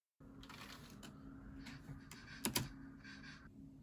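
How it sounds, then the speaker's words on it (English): Repeated key clicks and taps on a computer keyboard, centred on spacebar presses, with a sharp double strike near the end; close, dry and fairly quiet against a low steady background hum, with no voices. "That's right, it's the spacebar."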